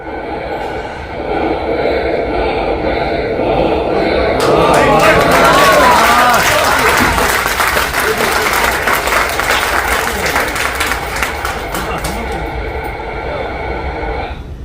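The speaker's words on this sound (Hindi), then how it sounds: "भीड़ देखिए किस तरह से मोदी मोदी करती है" A large political rally crowd chanting Modi and clapping builds into dense, loud applause and cheering that swells in the middle and carries on steadily, with a voice over it at the start.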